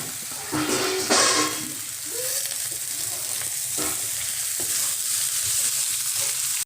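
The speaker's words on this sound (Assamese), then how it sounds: "আলুখিনি এতিয়া ৰঙচুৱা হৈ গৈছে আৰু এতিয়া মই ইয়াত এড কৰিম জিকাখিনি।" Ridge gourd added to browned potatoes and green chillies in a frying pan, making a loud burst of sizzling that settles into a steady hiss with occasional stirring clatter.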